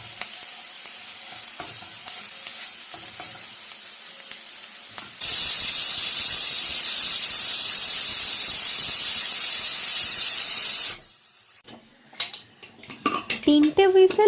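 A pressure cooker cooking coconut mutton vents steam in a loud, steady whistling hiss that lasts about six seconds. Quieter kitchen clatter comes before it, and a few sharp metallic knocks follow.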